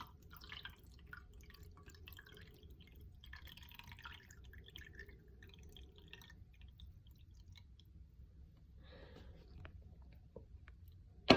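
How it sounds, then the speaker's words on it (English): Fresh water gently poured on top of salt water in a container for an egg-floating experiment: a soft, quiet trickle with scattered drips, close and faint, with no talking. "We're going to try to gently pour the fresh water on top of our salt water"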